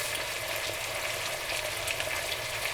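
Beef curry with a bay leaf browning in a pot, giving a steady, close, even sizzle and frying crackle with no talk.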